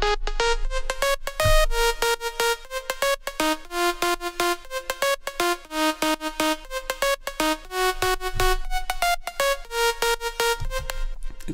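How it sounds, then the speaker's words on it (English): A sharp, plucky saw lead synth from a Nexus patch plays a bright, punchy melody of quick staccato notes alone, with steady rhythmic attacks and no talking. "the next track is the saw lead"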